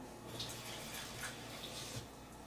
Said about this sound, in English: The first thing that we do is we wash it in tap water. So I'm gonna put tap water on this one.